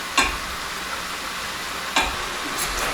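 Mutton curry with turmeric stirred in, sizzling steadily in a pan, with a couple of sharp scraping stir strokes near the start and again about two seconds later, no talk.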